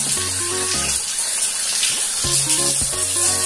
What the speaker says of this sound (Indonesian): Kemudian tinggal 6 kali basuhan itu dengan menggunakan air yang bersih ya, atau air yang mengalir dari keran.